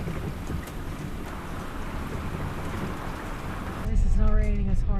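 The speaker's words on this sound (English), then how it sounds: "At least it's not raining as hard as it was." Rain during Hurricane Beryl falls in a steady wash mixed with wind and water sounds near a flooded road, then a louder rumble with tonal whine, probably a vehicle moving through the ponding, swells near the end.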